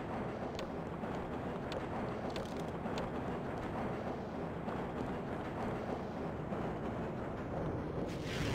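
Grenade launcher explosions in the Half-Life campaign of Sven Co-op, a dense, continuous barrage of booming blasts and rumble with no talk over it.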